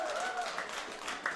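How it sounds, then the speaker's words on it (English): Crowd applause at a girls' school softball championship game in New Zealand, a steady wash of distant clapping and cheering lasting just over a second, with a brief louder burst near the end. "the applause is out for Skylar Breeze Joyce coming around with 3"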